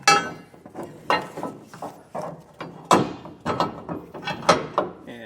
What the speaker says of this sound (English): Yeah, so I'm hitting that carriage bolt.